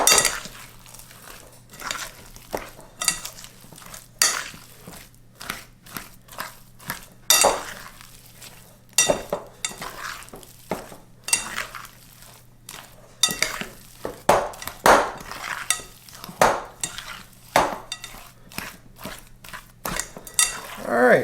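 Chocolate chips being mixed into keto almond cookie dough in a bowl, with repeated clinking and scraping of a utensil against the bowl in irregular bursts and short pauses between strokes, close and fairly loud, no talking.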